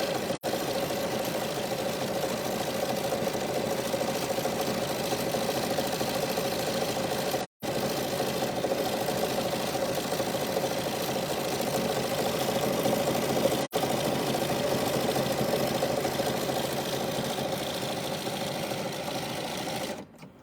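A BERNINA sewing machine couches yarn with steady, continuous stitching that runs loud and close for about twenty seconds, cutting off briefly twice along the way.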